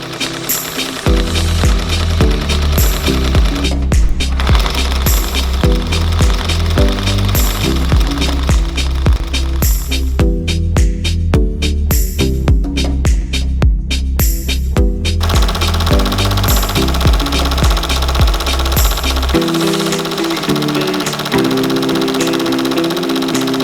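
An embroidery machine stitching a tack-down line over sandy glitter vinyl appliqué, a loud, rapid rhythmic mechanical thumping that runs continuously, shifts in pace, then stops near the end.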